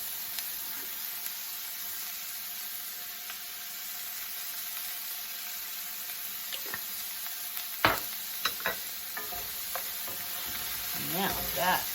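A frittata mixture with spices cooks in a pan with a constant sizzling hiss, sharper clicks and scrapes from a utensil later on, and a brief voice near the end.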